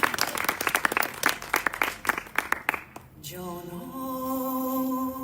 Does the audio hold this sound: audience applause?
yes